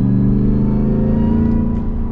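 A Ford F-150 Super Snake Super Crew truck's exhaust rumbles with a deep, steady, throbbing idle heard close and loud for about two seconds, with no talking.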